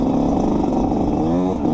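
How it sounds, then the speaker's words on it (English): A loud dirt motorcycle engine revs hard and steadily close by, its rough throaty roar holding at full volume throughout with no speech. "This bike is so loud."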